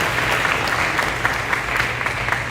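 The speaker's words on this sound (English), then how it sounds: "Give yourselves a round of applause." Steady applause from a crowd at a high school graduation ceremony, a dense patter of clapping that holds at an even level throughout with no voices.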